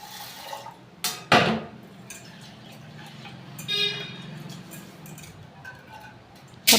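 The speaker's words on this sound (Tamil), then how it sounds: "பருப்பை நல்லா அலசிக்கிறோம்." Moong dal lentils are rinsed in water in a home kitchen, with sloshing, a dripping trickle and a couple of sharp clinks of a vessel. The sounds come close and intermittent, with quieter gaps between them.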